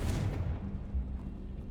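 A Confringo spell goes off in the Hogwarts Legacy game as a booming fiery burst at the start, followed by a low rumbling decay that fades over the following second.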